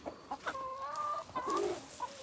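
A backyard flock of chickens, including a black hen, cluck softly in short repeated calls, fairly close, with a low steady background and no talking.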